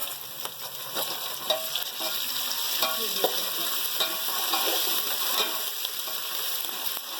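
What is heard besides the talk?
ginger garlic paste frying and being stirred in pan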